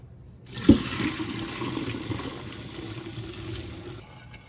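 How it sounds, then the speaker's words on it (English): Soaked beans being drained, water pouring steadily into a sink for several seconds with a brief clunk near the start, a close and fairly loud rush that fades toward the end. "our beans have been soaking for 1 hour, so we're going to drain them"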